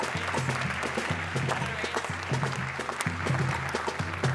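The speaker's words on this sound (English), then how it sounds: "give him a round of applause." At a conference closing plenary, the audience applauds in a steady, fairly distant wash of clapping, with a low tonal sound, likely music, running underneath throughout.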